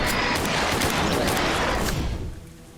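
Dense, continuous gunfire in the store-set horror game Shift At Midnight, a loud sustained barrage of rapid shots that thins out and fades near the end, with no talking.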